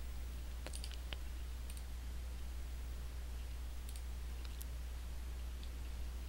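A computer mouse in measurement software gives a few faint, sparse clicks at irregular intervals over a steady low hum and hiss.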